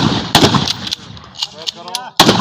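Sharp gunshots at a firing drill ring out close and loud, with pauses between them, and a man barks commands between the shots.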